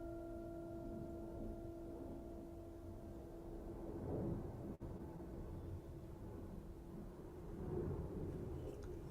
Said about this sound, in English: You might now hear the plane overhead.